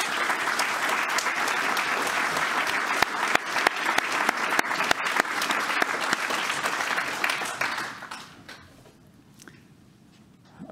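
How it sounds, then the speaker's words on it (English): Audience applause at a Linux storage conference talk, a dense steady clatter of many hands that carries on strongly for about eight seconds before thinning out and fading near the end. "I want to give a big round of applause to them for helping me out"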